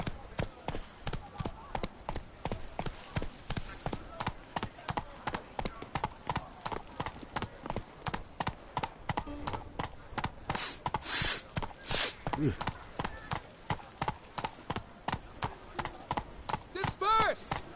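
Roach the horse gallops in The Witcher game, a steady, rapid clip-clop of hooves running close and even throughout, with faint background game sounds.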